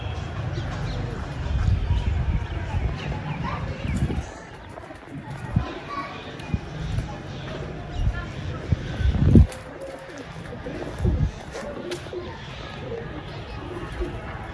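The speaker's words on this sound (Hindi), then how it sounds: "वो चार पांच कबूतर मुझे ऊपर नजर आ रहे हैं" Pigeons coo in soft repeated phrases amid a busy outdoor scene, with people talking and scattered bumps and rustles nearby.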